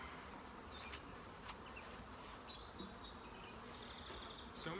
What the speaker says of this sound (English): So many bees right now are getting